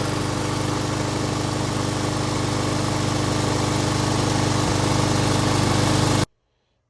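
A Craftsman M230 lawn mower engine running steadily after a carburetor replacement, a loud, even, close-up drone that holds without a break until it cuts off abruptly near the end.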